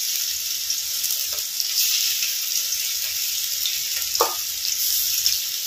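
Chicken frying in hot oil in an iron kadai, a continuous loud sizzle close by with a couple of faint stirring scrapes and no voices.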